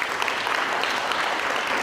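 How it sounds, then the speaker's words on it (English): Steady, dense applause from an audience, sustained clapping throughout with no breaks or talking. "Let's give a round of applause to Bandwidth."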